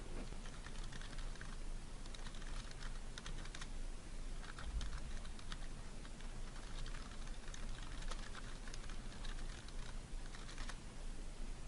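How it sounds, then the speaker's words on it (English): Continuous typing on a computer keyboard, a steady patter of soft key clicks close by over a faint background hiss, with no talking. "So I just typed a simple direction"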